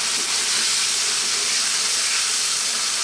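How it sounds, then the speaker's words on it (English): Thick cooking cream, about 250 ml, hits a hot pan and gives off a loud, steady, broad hiss of sizzling steam with no pauses. "Next, we're going to drop in our cream."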